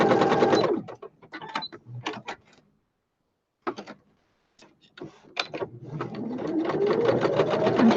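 A sewing machine straight stitches diamond shapes across fabric pieced from odds and ends, running in close, loud bursts of rapid stitching separated by short pauses, with a near-silent gap in the middle.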